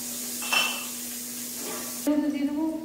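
Crushed garlic hitting hot oil in a pan and being stirred, a brief sizzle with metal utensil scrapes, while a steady tone hums underneath and a clink sounds near the end.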